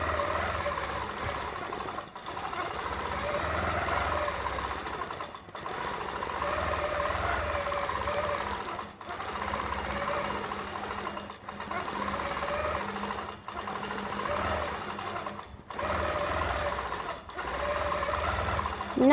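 A quilting machine fitted with a quilting foot stitches spirals across a quilt, giving a steady, loud mechanical whirring hum that runs almost continuously, broken only by brief stops every few seconds.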